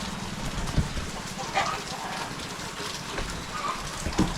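Night rain falling steadily outdoors, a dense even patter with a few louder drops and knocks, fairly close.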